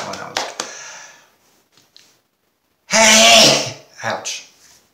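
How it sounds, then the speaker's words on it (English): A loud, uncovered human sneeze bursts out mid-fit, preceded by quieter breathy sounds and followed by a short, fainter exhale, all close to the microphone. "I'm doing completely uncovered and loud sneezes for you guys today"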